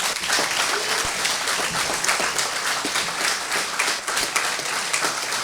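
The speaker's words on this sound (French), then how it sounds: "je voudrais qu'on les applaudisse" Sustained applause from the audience at a political public meeting in Besançon, dense, even clapping filling the hall at moderate distance for several seconds without a break.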